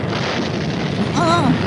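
A cartoon bomb store blows up in a loud, sustained rumbling blast that roars steadily for the whole stretch, with a brief wavering whistle-like tone riding over it near the end.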